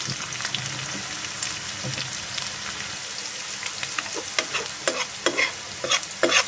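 Beef tripe sizzles and fries in plenty of oil with salt while a utensil stirs it, giving a steady crackling hiss broken by scraping strokes that grow sharper and more frequent toward the end.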